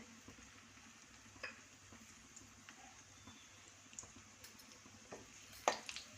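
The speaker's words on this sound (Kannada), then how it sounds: "ಗೋಡಂಬಿ ಫ್ರೈ ಆಗ್ತಿದೆ. ಫ್ರೈ ಆಗಬೇಕು ಗೋಡಂಬಿ." Cashews fry slowly over low heat in a pan, a faint, soft sizzle and bubbling with occasional light clinks and scrapes of a spoon, quiet and close.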